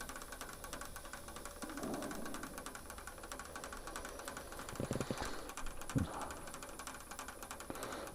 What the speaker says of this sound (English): I'm going to try and do this with the lathe spinning